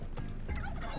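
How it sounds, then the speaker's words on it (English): Turkeys gobbling in Spelunky 2, a rapid burst of fowl calls lasting about a second, steady and fairly loud over a busy game backdrop. "Oh, hello, turkeys, who have conveniently already set off the arrow trap for me."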